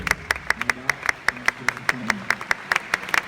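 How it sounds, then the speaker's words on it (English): At the 2016 Levrone Classic bodybuilding contest, a crowd claps for Chris in sharp, fairly regular hand claps, with a voice murmuring low underneath. "I'm going to pass it off to a round of applause for Chris."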